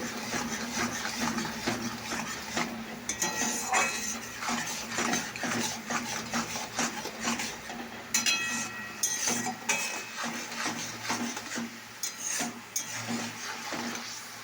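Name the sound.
spice paste being sautéed in a pan while rice cooks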